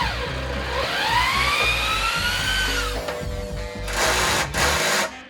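A power drill whirs in rising and falling bursts, winding up and down repeatedly as it backs screws out of a travel trailer during a renovation. The drill is close and loud.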